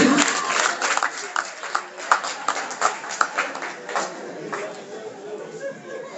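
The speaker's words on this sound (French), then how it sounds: "Applaudissez pour lui." An audience at a NeoLife mid-year rally claps together, a dense, steady patter of many hands filling the room with a few sharper claps and faint chatter mixed in.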